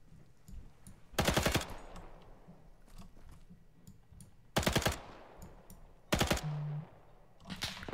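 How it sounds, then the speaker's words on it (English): Bursts of automatic gunfire from the military shooter game Arma, three loud sustained volleys with quieter scattered shots and faint ambient noise between them. "Come on, guys, fire at each other."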